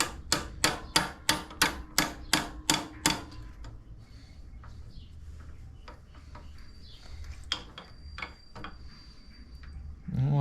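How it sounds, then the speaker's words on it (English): An air ratchet hammer rattles against a clip on a Harley Dyna Low Rider motorcycle's brake linkage in about nine rapid, evenly spaced loud strikes, then stops, leaving quieter workshop sounds and a brief voice at the end. "Get my ratchet hammer."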